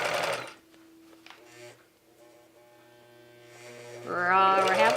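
A sewing machine runs with a steady mechanical hum through the middle while back stitching a stretchy dress, with louder bursts of noise at the start and end.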